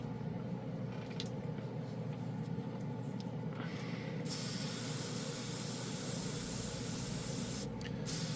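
A Dspiae no-wash airbrush with a 0.3 needle sprays Tamiya paint, a continuous close hiss of air and atomized paint that holds steady for several seconds with brief shifts in tone.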